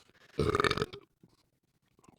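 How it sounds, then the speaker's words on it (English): A loud, drawn-out human burp lasting about half a second, close to the mic, followed by quiet with faint small noises. "that was a good burp"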